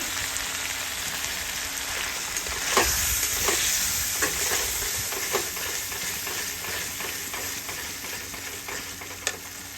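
A spice masala with chilli powder and salt sizzles and fries in a pan, a steady close hiss broken by repeated scraping stirs, with no voices.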